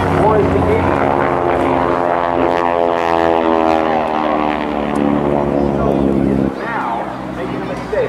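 A GEICO Skytypers propeller plane maneuvers during a 2008 Jones Beach airshow, its droning engine pitch sliding as it turns, loud and close, with an announcer and crowd chatter over it.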